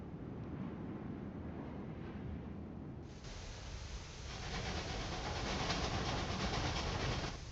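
A train runs in Railway Empire 2 with a steady rushing rumble and faint clickety-clack. It swells louder and brighter partway through, with no talk over it.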